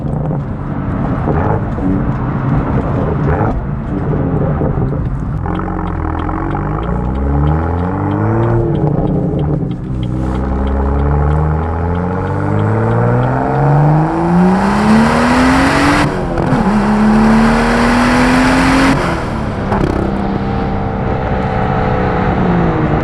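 A BMW F87 M2 with a Bootmod3 stage 1 tune on 93 octane makes a wide-open-throttle pull, its engine climbing steadily through repeated gear changes with a loud, continuous drone, then crackling exhaust burbles near the end.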